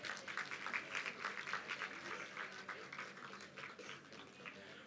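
A university day award ceremony audience applauds steadily for several seconds, a dense crowd clapping at moderate loudness that slowly thins toward the end, with no voices over it.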